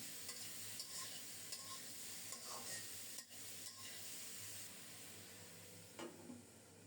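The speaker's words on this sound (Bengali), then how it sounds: "ভালোভাবে নেড়ে চেড়ে কুমড়োটাকে ফোড়নের সাথে মিশিয়ে দেব" Chopped pumpkin being stirred with spices tempered in oil in a pan, a steady soft sizzle running throughout with scattered scraping taps of the spoon, close and fairly quiet, no voices.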